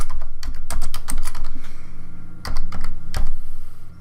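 A computer keyboard being typed on to enter an alignment name in road design software, quick bursts of crisp, loud keystrokes close by, with a short pause midway and no voices.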